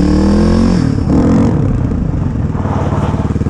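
A Suzuki DR350SE dirt bike engine revving in second gear, a loud close single-cylinder roar that climbs, dips and settles into a rough pulsing idle.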